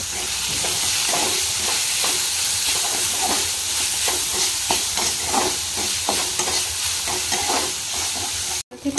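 Chopped onions fry in a pan with a steady, close sizzle and a broad hiss that runs the whole time, broken by soft stirring scrapes and clinks, with no talk.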